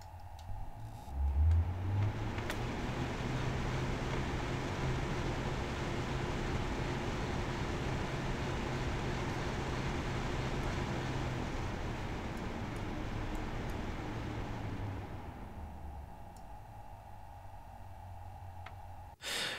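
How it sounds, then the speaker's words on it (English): Silverstone IceGem 240P CPU cooler fans, 120mm units at maximum speed, produce a steady, even whoosh of airflow with a low motor hum that runs continuously and then cuts off near the end. "I am doing this to show you the actual noise you can expect to hear from this cooler and included fans"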